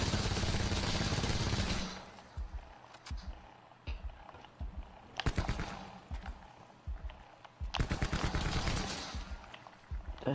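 A Call of Duty Black Ops 4 match opens with a dense burst of automatic fire, then after a quieter stretch with scattered clatter, more bursts of rapid shots and single cracks come in, loud and close.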